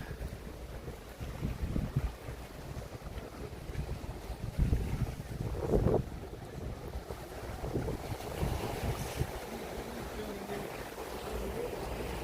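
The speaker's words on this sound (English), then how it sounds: "It's nice and breezy down here at the moment." Breezy wind buffets the microphone on the Lowestoft seafront, with waves washing in underneath, a continuous rushing roar that swells in gusts.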